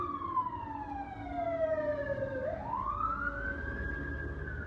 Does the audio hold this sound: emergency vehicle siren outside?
yes